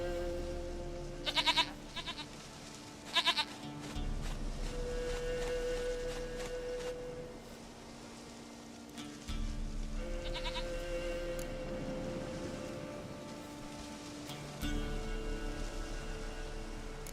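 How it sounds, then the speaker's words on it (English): Goats bleat in The Witcher 3: Wild Hunt, several short, wavering calls spread out over a steady ambient game soundtrack, with no one talking. "Goat of mine, dearest, sweetest goat."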